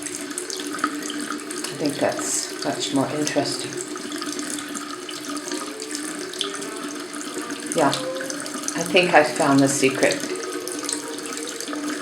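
Italian tap water runs in a continuous steady stream, close and moderately loud, while someone talks over it with a few brief clinks and splashes.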